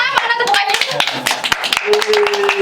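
Hands clap in bursts in a podcast studio, several sharp, close claps in quick succession, with voices talking and laughing over them.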